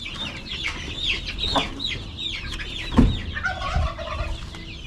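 Rhode Island Red chickens cluck and squawk close by in a coop, bursts of bright calls overlapping with a few louder squawks and background rustling.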